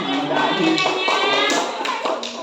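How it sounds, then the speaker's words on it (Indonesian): A class claps for the first group of student presenters during a guided teaching practice session, a short burst of group applause that fills the clip with dense, steady hand claps. "Kalau nggak ada, kita beri tepuk tangan dulu ya"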